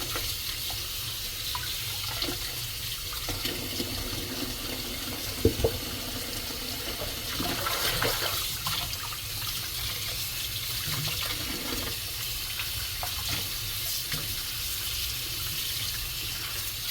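Callaloo leaves are washed under a running kitchen tap, a steady close stream of water with occasional splashes and handling noises throughout.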